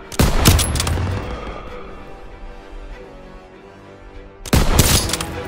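Gunfire in the video game Call of Duty: WWII comes as two loud, close bursts of rapid shots, one at the start and one near the end, with quieter battle noise between them.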